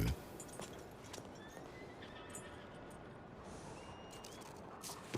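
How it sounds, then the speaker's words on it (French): A video game horse whinnies a few times over steady clopping hooves, fairly close, with a constant dull background wash and no talking. "Un cheval volé, quoi."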